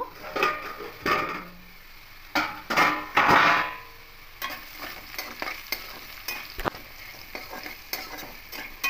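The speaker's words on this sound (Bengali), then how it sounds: "ঢাকা খোলা অবস্থাতে আলুগুলো একটু ভেজে নেব" Potatoes frying in oil in an open pan for posto aloo bhaja, stirred up close. A steady sizzle runs under repeated scraping, clattering strokes of a spatula against the pan.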